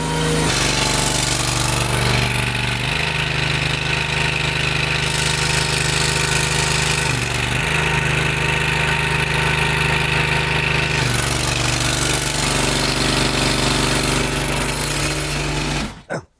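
A new hydraulic pump motor for foundation repair runs steadily at about three-quarter throttle, a loud continuous engine drone with a couple of brief shifts in load, cutting off abruptly at the end.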